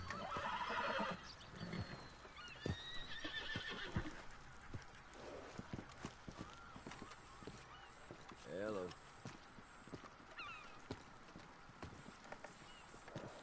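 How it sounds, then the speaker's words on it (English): A horse whinnies and neighs in Red Dead Redemption 2 online, with clip-clop hooves and game ambience around it, fairly faint and mixed under someone talking. "What's going on with this horse?"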